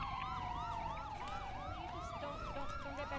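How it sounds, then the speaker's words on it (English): A police car siren from a GTA V roleplay scene wails continuously in rising and falling sweeps, loud and steady for the whole stretch with no talk over it. "I was just trying to turn off these sirens"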